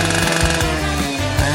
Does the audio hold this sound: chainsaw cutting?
yes